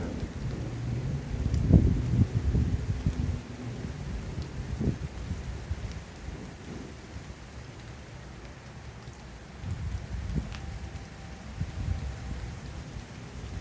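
Rain falls during a December storm in Fort Worth, Texas, a steady hiss and patter with low rumbles like distant thunder and a few louder gusts, heard without any voices.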